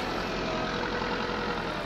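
In Farming Simulator 19, a tractor engine idles with a steady, even low rumble that holds without change for a couple of seconds, close and moderately loud.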